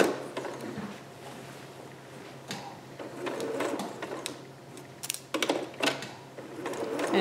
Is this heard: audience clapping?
no